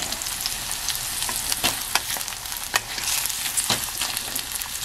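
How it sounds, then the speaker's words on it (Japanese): Mushrooms frying in garlic-infused oil, a steady close sizzle punctuated by irregular clicks and scrapes of stirring, no speech. "マッシュルームがしんなりするまで混ぜていってください。"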